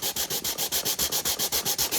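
Hand sanding the outside surface of a glued-up wooden Bluetooth speaker box, a steady back-and-forth rasp of about a dozen even strokes, close and loud, with no voices.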